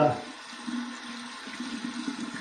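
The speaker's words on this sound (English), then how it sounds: "alum block, the no-slip grip, under cold water, running it under cold water" Cold tap water runs steadily over an alum block at a bathroom sink while wet shaving, a close, continuous splashing flow with slight fluctuations throughout.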